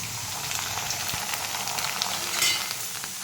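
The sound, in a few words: rice papad frying in hot oil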